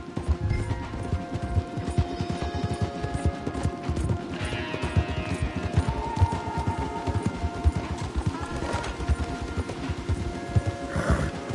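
Rapid hooves pound in a steady galloping rhythm in Red Dead Redemption 2, with a horse whinnying and other game sounds layered over the clatter.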